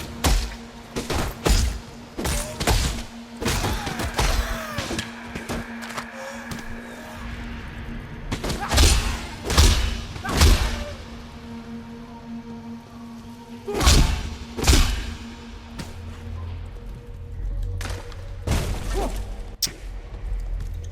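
Exploding barrels blowing up in the action game Path of Exile, heard as a run of loud, sharp thumping bursts spread across the stretch, over a steady game soundscape with no talk.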